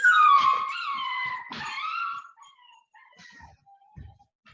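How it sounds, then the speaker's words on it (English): A timer alarm gives a loud wavering electronic howl, rising and falling in pitch like a crying siren, fading after two seconds into fainter beeping tones. "that was a timer that was hard to hear"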